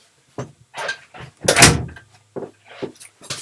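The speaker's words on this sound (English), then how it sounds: "I'm just going to shut my door." A door is pushed shut in a home workspace, with a few soft knocks and shuffles leading to one louder closing thud midway, followed by lighter handling clicks.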